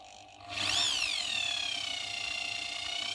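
A Mac Allister 600W hammer rotary drill spins up and runs at its slowest power setting, a close, steady high whine with a wavering pitch that holds for about three seconds, with no talking.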